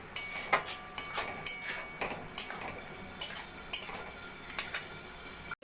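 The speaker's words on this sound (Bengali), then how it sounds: "জলটা দিয়ে ভালো করে মিশিয়ে নেব।" A spoon stirs water into red lentils and drumstick leaves in a pan, scraping and clinking against the metal in a steady rhythm over a faint sizzle.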